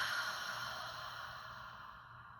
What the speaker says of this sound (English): audibly exhale